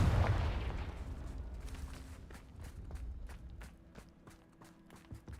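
Confringo fire spell blast in the Hogwarts Legacy video game, a loud burst at the start that decays into rumbling, followed by a series of light crackling hits and steps as the sound fades.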